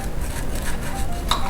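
A steak knife saws into a cooked steak on a plate, giving a steady close scraping with a bright metallic clink of blade against dish near the end.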